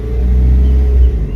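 A car accelerating gently during a driving lesson produces a deep, steady engine rumble that swells slightly, close and loud, with no talking.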